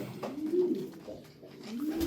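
Malatya game pigeons coo softly from close by, two low, rolling coos with a brief pause between them, with no other sounds around.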